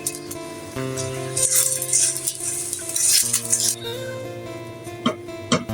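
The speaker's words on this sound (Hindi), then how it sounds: "इसके प्याज को हम थोड़ा सौते करेंगे, इसका कलर चेंज हो जाए" Finely chopped onions sauté in a pan for a chicken chutney masala, with bursts of sizzling and spoon stirring and clinking against the pan, partly masked by steady background music.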